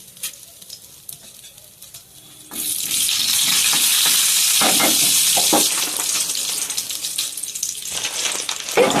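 Quiet kitchen noises give way to a sudden loud, steady sizzle as mustard seeds, chana dal, urad dal, curry leaves and dried red chillies hit hot oil, crackling on for several seconds.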